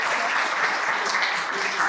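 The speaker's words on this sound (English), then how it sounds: "So let's clap it up for them as" Applause from an audience at a gallery artist talk, a dense, steady wash of many hands clapping close by for the whole stretch, with no break and no voices over it.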